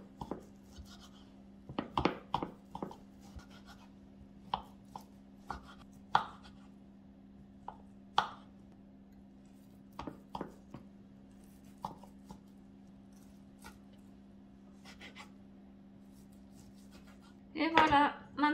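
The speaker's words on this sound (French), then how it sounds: "Et maintenant je vais couper les jambons." Ham is chopped with a knife on a board in a quiet kitchen. Scattered sharp thuds and taps come in uneven bursts, with a quicker cluster near the end, over a low steady hum.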